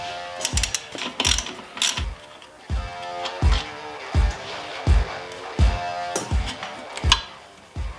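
A ratchet wrench clicks in repeated close bursts with a steady rhythm while the brake calipers are unbolted from a motorcycle during a tire change.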